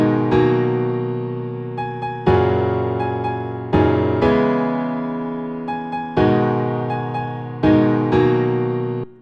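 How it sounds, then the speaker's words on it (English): A synth melody repeats a short rhythmic phrase four times, each pass starting with a sharp attack and decaying, with no talking over it. "let's draw in a simple melody rhythm that's going to work with these other elements"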